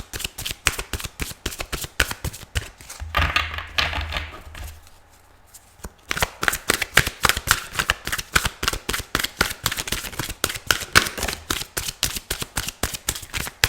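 Archangel Power tarot cards by Doreen Virtue being riffle-shuffled up close in a steady run of rapid crisp flutters, pausing briefly midway before the fast shuffling resumes.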